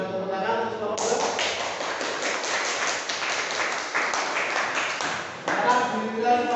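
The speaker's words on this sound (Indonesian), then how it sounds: "Kita kasih apresiasi dengan tepuk tangan untuk kelompok 2." Classroom applause for a presenting student group in an Islamic economics lesson at a vocational high school, dense clapping starting after a second of speech and running steadily throughout, with a short voice break near the end.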